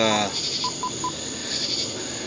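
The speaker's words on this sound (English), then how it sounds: "doing a little phone call, check up on Mr. Nasir Upshaw" Telephone dialing: a string of short DTMF keypad beeps, three crisp evenly spaced tones after a brief harmonic tone at the start, set over a faint steady hiss.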